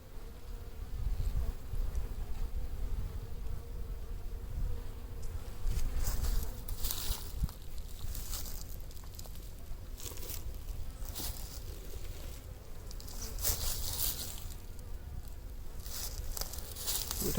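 Strong honey bee colony buzzing steadily, a dense continuous drone heard close up with occasional rustling and scraping, no talk.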